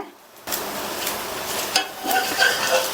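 A wheat flour sweet dosa cooks in ghee on a pan, starting suddenly as a close, steady sizzle that runs on with a few brief scraping clicks.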